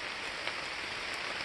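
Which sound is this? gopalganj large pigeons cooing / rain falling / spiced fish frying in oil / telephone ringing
rain falling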